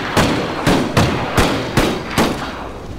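Puckle guns fire in a video game battle, six heavy booming shots at an even, rapid rhythm about half a second apart, loud and close with short decaying tails.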